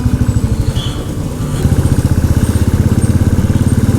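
A motorcycle engine thrums loudly and steadily while riding on NH 10 from Siliguri toward Gangtok in Sikkim, its pulsing beat picking up slightly partway through, with no talking.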